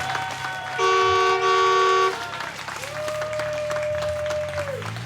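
The restored Rocky Brook Rocket train in Opelika blows a loud, steady horn toot for about a second before a long second tone, while a crowd's cheering and applause wash underneath.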